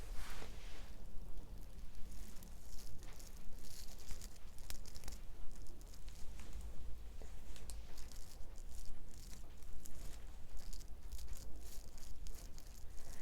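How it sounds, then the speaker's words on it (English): Steady rain patters outside, a soft constant hiss of drops at a low level with faint crinkly ticks scattered through it, even and continuous with no voices. "it's very rainy outside, but it is quite relaxing to listen to."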